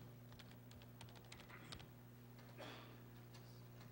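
Typing on a computer keyboard that is being proxied through a BeagleBone USB man-in-the-middle device at a ShmooCon talk: a steady run of quick, light key clicks over a constant electrical hum, with a brief louder rustle near the end.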